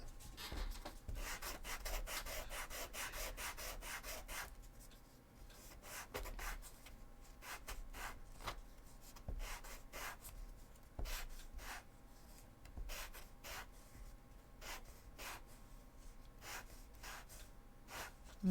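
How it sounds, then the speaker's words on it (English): Sanding of a handle piece for a Warhammer 40k Sisters of Battle cosplay weapon: steady rough rubbing strokes with short scraping bursts, close and continuous throughout. "sand this to become some sort of circle."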